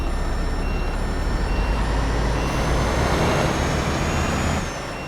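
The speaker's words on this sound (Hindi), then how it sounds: "यहीं पे रोकते हैं गाड़ी को, वापस रिवर्स लेंगे" An Ashok Leyland truck in Euro Truck Simulator 2 drones loudly as it stops and reverses, with steady repeating reversing beeps over the engine before the sound drops off near the end.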